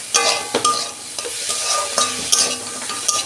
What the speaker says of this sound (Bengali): গোটা জিরে দিচ্ছি, গোটা ধনে দিচ্ছি।